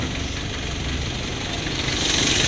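A 1994 Isuzu Panther's engine idles with a steady, close mechanical rumble and hum, unchanging throughout and with no voices.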